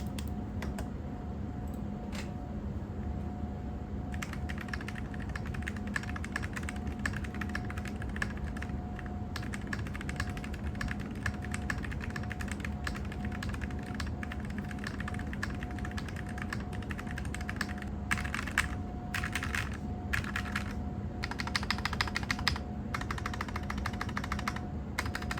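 Steady, fast typing clatters on a MonsGeek FUN60 Pro Hall Effect wireless keyboard with a somewhat hollow tone, keystrokes rattling continuously over a faint constant hum with no talking.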